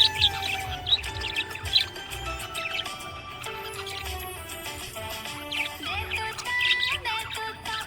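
A budgie chirps and warbles continuously, with rapid high tweets, trills and chattering notes close by and fairly loud, with no voices present.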